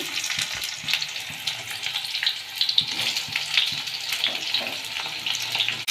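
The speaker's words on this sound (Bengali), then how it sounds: "পেঁয়াজটাকে ভালো করে ভেজে নেব।" Chopped onion fries in hot oil with cinnamon, cloves, dried red chillies, bay leaf and cumin, giving a steady close crackling sizzle broken by scattered pops and stirring scrapes.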